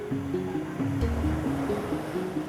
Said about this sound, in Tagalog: Malinaw at mayaman pa rin ang malawak na karagatan.